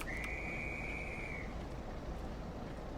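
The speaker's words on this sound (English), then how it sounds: "Get a little dispatcher's whistle going off, and off it goes" A train dispatcher's whistle gives one long, clear, shrill blast of about a second and a half on a station platform, over steady low rumble and background noise.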